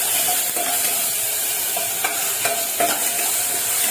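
Cumin and ginger-garlic paste sautéing in oil for a chicken dish, with a constant bright hiss of frying and a few soft stirring scrapes spaced through it.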